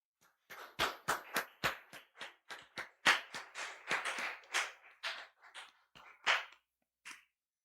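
A small audience at a talk gives faint, scattered applause, individual sharp claps spaced unevenly before trailing off.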